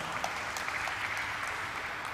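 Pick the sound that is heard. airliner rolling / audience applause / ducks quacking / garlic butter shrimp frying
audience applause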